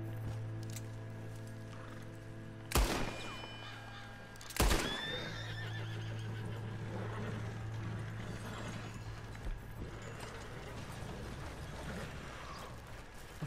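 Two sharp, loud horse whinnies a couple of seconds apart, followed by steady hoofbeats and a low rumbling background, in the video game Red Dead Redemption 2.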